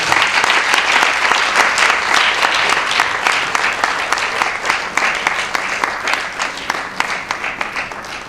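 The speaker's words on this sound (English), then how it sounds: "With a huge round of applause, I would like us to welcome Mrs. Grace Barnes as our chairperson" A large audience breaks into sustained, dense applause welcoming a chairperson at a nurses' gathering, loud and continuous throughout with no talking over it.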